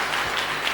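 Applause from a seminar audience at a motivational talk, a short steady wash of many hands clapping at moderate level with no talking over it.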